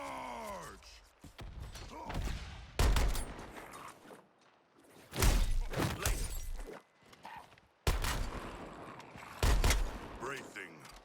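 Gunfire erupts in the Suicide Squad Kill the Justice League video game, with repeated loud bursts and sharp impacts separated by short lulls, mixed with voices and game effects.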